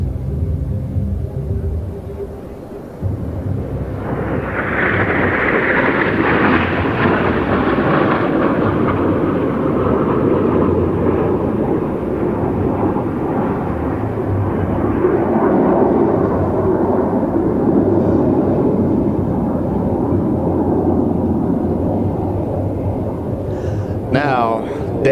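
Aerobatic jet aircraft performing a display at the NATO Days and Czech Air Force Days air show, a loud sustained engine roar that swells in after a few seconds and rumbles on steadily, with crowd or commentary noise underneath.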